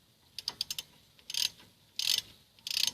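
A ratchet tightens the front brake caliper bolts on a Mazda5: a quick run of close, crisp clicks, then three longer bursts of rapid ratcheting, with no voices.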